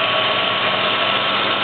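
Steady electric-sounding hum and whine from the cooling fan and engine bay of a 1994 Nissan Z24 3.1 engine, continuous and even at close range with no voices.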